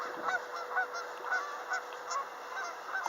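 Geese honk repeatedly along a roadside in Calgary, Canada, with a run of fairly loud, uneven calls spread across a few seconds over steady background hiss and no talking.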